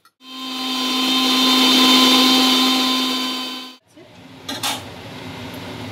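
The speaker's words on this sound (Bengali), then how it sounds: "আমি পাতাটা এই মিক্সারে দিয়ে দিলাম, মিক্সারের বাটিতে।" An electric mixer grinder whirs loudly and steadily for nearly four seconds as it grinds kharkol leaves with dry-roasted garlic and nigella seeds, then cuts off, followed by faint handling noises.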